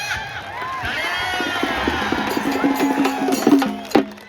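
A large outdoor crowd at a traditional kusti wrestling ground roars and cheers continuously, with shouting and whoops building toward the end, loud and dense.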